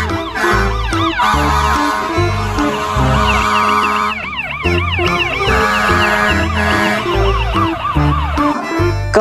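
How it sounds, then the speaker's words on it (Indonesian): Toy ambulance siren wailing in repeated rising and falling sweeps, loud and close, over a rhythmic electronic backing tune with a steady beat throughout. "Yang ini ada mobil ambulans."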